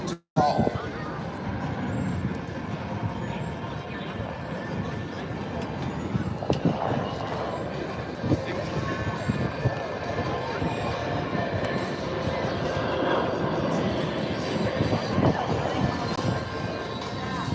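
Large aircraft with tall turned-up winglets, about 170-foot wingspan, passing show center at the Beale AFB airshow: a broad, steady engine roar that swells slightly toward the end, heavy and continuous throughout.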